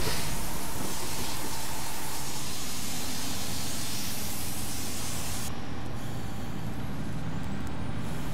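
Powerful continuous hiss of a firefighter's hose spraying a building wall in the game EmergeNYC, loud and steady throughout, with the high spray noise dropping away near the end.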